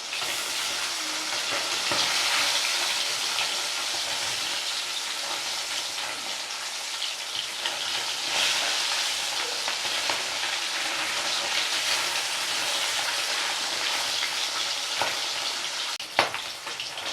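Pieces of bata fish frying in mustard oil in a kadai, turned over partway, giving a long, even, close sizzle with scattered spits and one sharp clatter near the end.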